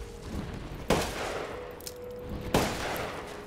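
Gunfire in the video game Resident Evil Village: two sharp, loud single shots about a second and a half apart, each trailing into a long hissing, rumbling echo, with no talking.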